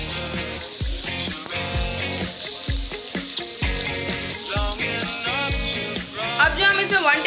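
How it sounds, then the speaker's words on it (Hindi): Sliced onions frying in oil in a pot for bhuna gosht make a steady sizzle that runs throughout, partly under melodic background music. "हम प्याज को इसमें अच्छी तरह से मिक्स कर लेंगे और प्याज को फ्राई कर लेंगे"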